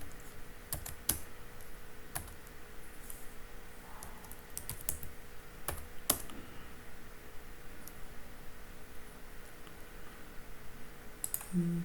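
Computer keyboard typing code, bursts of light clicking keystrokes at an uneven pace, close and fairly quiet against a faint steady background hum, with no talking.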